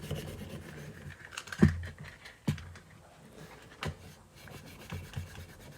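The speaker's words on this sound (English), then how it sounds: "Let's hit the steel wool on the back side" Steel wool rubbing against the back of a rusty steel scale, giving close, uneven scratchy rasping strokes with a few sharper scrapes and no talking.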